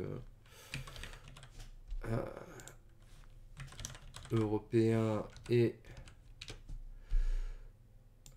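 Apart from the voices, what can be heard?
computer keyboard typing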